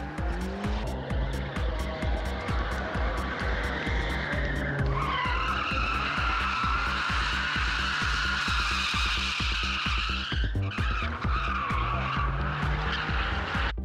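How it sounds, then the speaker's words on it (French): A Ford Sierra prepared for drifting slides with loud, sustained tire squeal over a rhythmic engine drone, the screech swelling and fading across the run at a motorsport event. "les Ford Sierra, une voiture qui, avec les préparations nécessaires, devient une bonne machine pour glisser."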